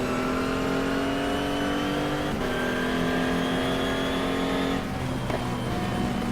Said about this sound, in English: There goes that Nissan in the NGT class.